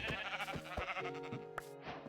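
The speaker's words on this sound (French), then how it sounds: "Voilà, notre premier petit mouton." A video game sheep bleats loudly and up close in a quick run of wavering, nasal calls over a steady background.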